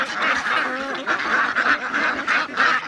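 A flock of ducks quacks steadily in a dense, overlapping chorus, loud and near, a busy crowd of nasal calls throughout with no talk.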